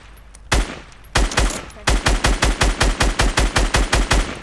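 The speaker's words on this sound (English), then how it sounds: "I'm gonna try to shoot that down." A weapon fires in the Fortnite video game: two single loud shots, then a steady rapid burst of about a dozen evenly spaced close reports, with no talk.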